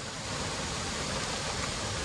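Icy meltwater from a mountain stream near the China border rushes steadily and close, a dense continuous broadband flow with no voices over it.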